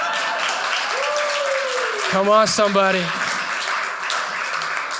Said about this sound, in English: Can you guys give a round of applause?